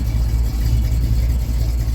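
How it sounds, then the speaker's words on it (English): A 1983 Chevrolet S10 Blazer with a 355 Vortec V8 and a four-barrel carb idles slowly on a chilly day, a steady low rumble close by with no talking. "It even sounds better with that slower idle"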